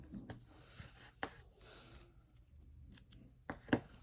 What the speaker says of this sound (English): I'm just going to peel a little piece off and stick it down